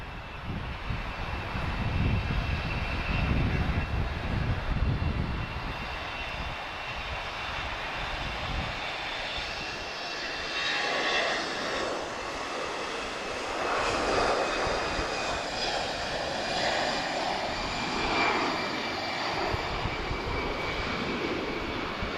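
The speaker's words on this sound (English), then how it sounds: "we've got a very nice Embraer Legacy inbound" Embraer Legacy business jet arriving at Lisbon Airport, a loud sustained engine roar with whining tones that swells and shifts as it passes, steady throughout.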